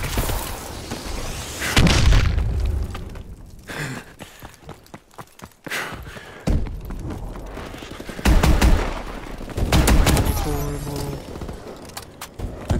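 Shotgun fire in the video game Advanced Warfare, loud booming blasts in clusters with gaps between, mixed with game effects and brief vocal noises.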